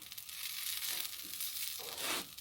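A homemade vegan black bean burger fries in a pan inside an RV, giving off a soft, steady hiss of sizzling with a few faint crackles and stirring scrapes, quiet and close.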